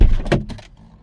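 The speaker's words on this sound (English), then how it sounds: "as soon as I open the door" A car door is opened after the engine is switched off on a car fitted with an immobiliser, giving a loud close thunk of the latch followed by a brief rattle that fades quickly.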